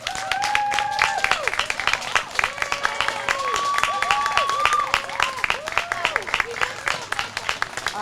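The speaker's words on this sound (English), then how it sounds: "I would like the adults to join me in giving this class a round of applause." Adults in a school graduation audience applaud a 4th grade class, a steady wash of clapping lasting several seconds with scattered voices and whistle-like tones mixed in, fairly close and moderately loud.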